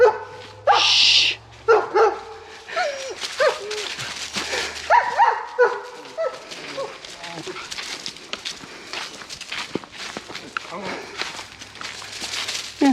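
A dog at a campsite in northern Wisconsin barks and yips at passing walkers, loud and close at first, then quieter bursts continue as people talk and footsteps carry on.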